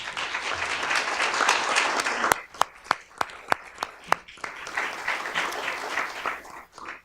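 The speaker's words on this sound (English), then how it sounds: "So a round of applause for our cadets." A council meeting audience applauds its cadets: dense clapping for a couple of seconds, then a few loud, separate claps near the microphone, before the applause swells again and tapers off.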